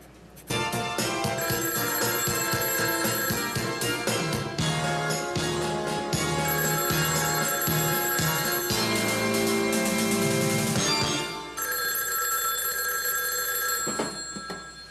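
Telephone ringing continuously for about fifteen seconds, a loud, bright ringtone over musical background sound with no talk.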